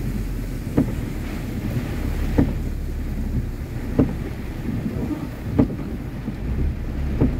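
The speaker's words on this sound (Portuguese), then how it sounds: "Tá ventando muito, chovendo muito." Strong wind and heavy rain on the BA 152 road near Macaúbas in the Bahia backcountry of Brazil, a continuous rushing wash punctuated by regular soft thumps roughly every second and a half, with no talking.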